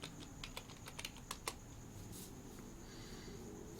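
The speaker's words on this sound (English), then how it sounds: "Okay, well, type it in." Fingers tap out a short word on a computer keyboard, a quick cluster of crisp, close keystrokes over the first second and a half, followed by quiet room tone.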